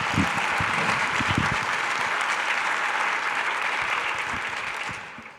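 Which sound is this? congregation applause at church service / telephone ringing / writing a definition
congregation applause at church service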